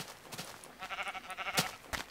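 Sheep in Minecraft giving a run of short, wavering bleats, quiet and close, with a sharp click near the end and no voices.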